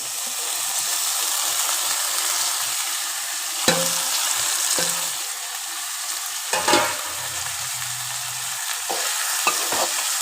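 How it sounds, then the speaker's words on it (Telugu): Okra frying in oil in a home kitchen, giving a steady close sizzle with a few sharp stirring clatters and scrapes of a utensil in the pan. No one speaks. "ఒక ఐదు నిమిషాలు ఆయిల్లో ఫ్రై అవ్వాలి ఇవి"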